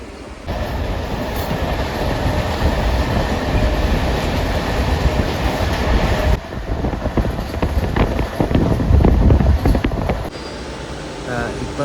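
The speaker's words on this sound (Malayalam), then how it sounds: "ട്രെയിനെന്നും ഒക്കെ പറയുന്ന ട്രെയിൻ. അപ്പോൾ ഇതിൻ്റെ അകത്ത് സാധനങ്ങളാണ് കൊണ്ടുപോകുന്നത്." A goods train carrying cargo rolls steadily along the rails, with a continuous rumble and clatter that holds for the whole stretch, shifting in tone partway through as the wagons pass.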